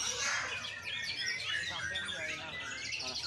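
Caged songbird singing a long, loud trilling cililin phrase at a bird-song competition, high chirping and warbling notes rolling continuously and close, with a voice speaking over it.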